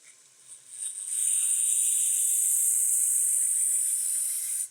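A belt grinder fitted with a radius platen sharpens a chef knife, giving a steady, bright high-pitched hiss that swells in after about a second and holds evenly close to the microphone before cutting off.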